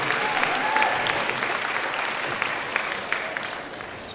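An audience at a vegan camp-out gives a dense, steady round of applause that holds at an even level for about four seconds, with only scattered voices beneath it.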